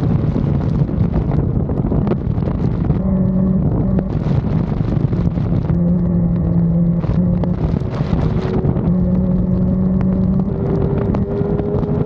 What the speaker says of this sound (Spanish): aunque intento acelerar igual de fuerte a las SBK, no logro mantener la misma aceleración